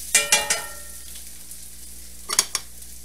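Onions caramelize in a hot pan under a low, even sizzle, punctuated by a few sharp utensil scrapes and clinks at the start and again near the end.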